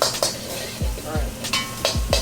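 Onions and jalapenos sizzle in a wok, a steady frying hiss broken by repeated metallic scrapes and clinks of a utensil against the pan, close up, with no clear speech over it.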